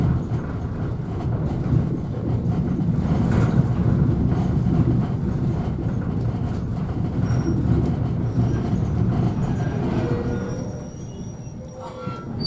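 A heritage train on the Wensleydale Railway rumbles along the line, a loud continuous rolling roar of wheels and carriages that eases slightly near the end.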